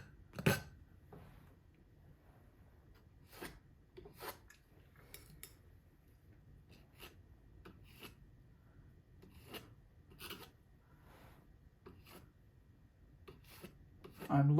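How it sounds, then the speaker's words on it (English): A painting knife scraping across a fine art canvas, producing short, scattered rasping strokes at an irregular pace, close but faint against a quiet room. "if you want to remove some stuff, scrape it"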